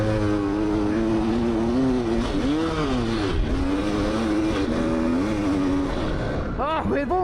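Old, worn-out dirt bike lapping a track, its engine buzzing loud and steady with pitch wavering up and down as the throttle changes, then a couple of quick revs near the end; no speech heard.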